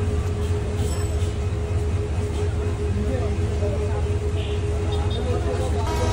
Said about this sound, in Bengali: এই মুহূর্তে আমাদের ট্রেন এসে পৌঁছালো বাউরা স্টেশন